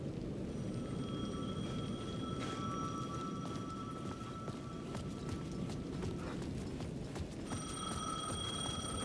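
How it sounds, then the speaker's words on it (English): A payphone rings repeatedly inside the Alan Wake 2 video game. The bright, evenly spaced rings sound over a dense, noisy ambient bed with no talking. "The payphone was ringing again."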